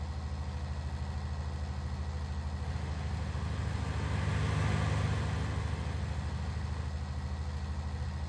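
A tractor engine labors at full power in Farming Simulator 19, a steady low droning rumble that swells slightly midway and holds constant throughout.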